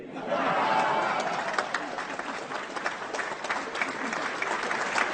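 An indoor audience at a park inauguration event bursts into sustained applause, a dense wash of many hands clapping that rises quickly and holds steady for several seconds, with faint crowd chatter underneath.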